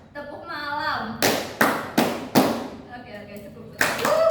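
Several sharp hand claps in a slow, uneven rhythm, close by, with a voice heard briefly before and after them.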